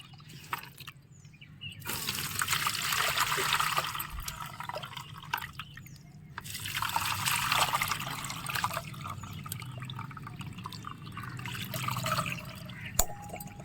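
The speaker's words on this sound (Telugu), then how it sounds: "ఇలా నానపెట్టుకున్న వాటర్ని ఒకసారి మనం వడకట్టుకుందాం." Soaked onion peel water is strained through a filter, giving a trickling, dripping pour that rises and fades in a few passes, with a small clink near the end and no talking.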